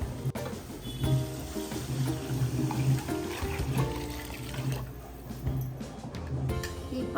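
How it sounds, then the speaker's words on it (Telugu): Water pours steadily into a cooking pot while mutton biryani is being made, a continuous close splashing stream running for several seconds. "వాటర్ పోసుకోవాలండి."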